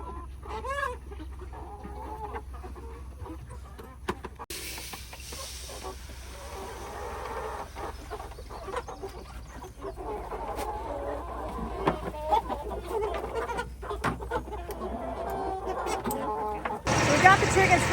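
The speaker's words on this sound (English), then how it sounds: "We got the chickens fed in the perfect time." On a farm, chickens cluck while being fed, with scattered calls over a steady low background and some rustling before a louder burst at the end.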